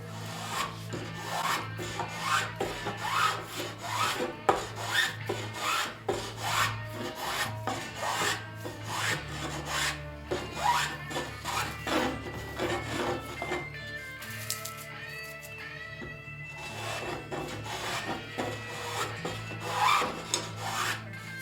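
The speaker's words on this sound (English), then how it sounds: "And besides, this spoke shaving this has got to be the most fun part of the whole project." Spokeshave shaving a wooden Greenland paddle by hand, a continuous series of close, rapid scraping strokes with crisp rhythmic rasps, briefly thinning out midway before resuming.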